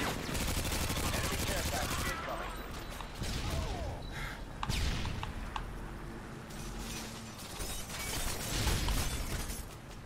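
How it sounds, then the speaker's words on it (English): Gunfire in Modern Warfare 2 on PS3: dense, continuous rapid shots and metallic clatter in heavy combat, loud and sustained throughout, with mechanical clicks and speech mixed in. "He's being shot from behind."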